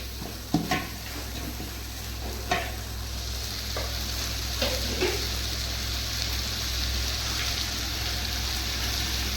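Washed chicken pieces sizzle as they are added to softened tomatoes frying in a pan for chicken kurma, a steady close crackle with occasional clinks and stirring scrapes.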